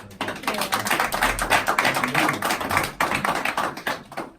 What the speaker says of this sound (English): I just want to give an applause to you.